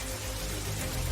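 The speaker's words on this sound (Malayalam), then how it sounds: "മഴ പെയ്യുന്നു" Steady rain falls throughout, a continuous broadband patter at a constant level with a low rumble beneath and no voices.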